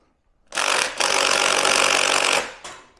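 An impact wrench works on the pinch bolts of a Concours 1400 motorcycle, giving a short loud burst, a brief pause, then a longer sustained hammering run that cuts off, with a faint tap afterward.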